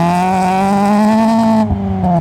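A Toyota Prius drives along a snowy street the day after a blizzard, with a loud, close, steady droning engine tone that dips briefly near the end.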